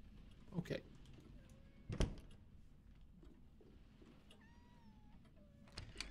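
A cat meows in short, faint calls amid light household noise, with a couple of sharp knocks and thumps nearby.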